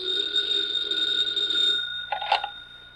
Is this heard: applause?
no